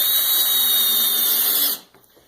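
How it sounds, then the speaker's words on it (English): Power drill whirring at high speed while driving screws into a drywall panel, a loud steady whine held close for most of the moment before cutting off abruptly, followed by faint handling noises. "Now we can screw that panel down tight."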